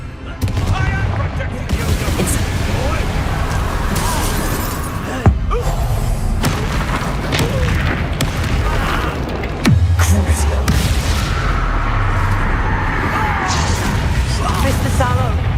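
Confringo blasting curses cast in combat in Hogwarts Legacy on PS5, repeated booming impacts and bursts scattered over a busy, loud fight, with shouted voices throughout.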